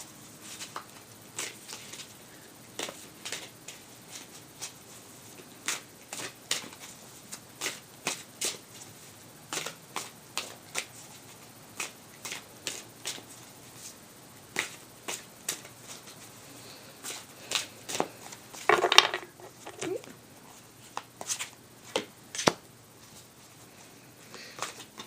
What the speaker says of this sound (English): Actually, pulling the cards in front of you guys.